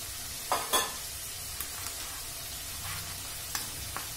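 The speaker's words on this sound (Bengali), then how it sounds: "একটু সামান্য জল দিলাম, ভালো করে ভেটে নেব।" Prawn curry with a splash of water is stirred in a hot pan, a steady bubbling sizzle with a few sharper scraping strokes of the spoon near the start and later soft knocks.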